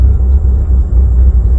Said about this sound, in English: definitely has an exhaust leak somewhere because I can smell exhaust and I can hear it coming out of the hood